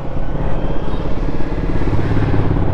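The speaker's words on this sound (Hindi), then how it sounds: "सुपर बाइक गई आवाज आई अभी, बहुत तेज थी आवाज" Superbike roaring past at night on the road, a loud close engine rush that swells and holds throughout the short stretch, heard with no talking over it.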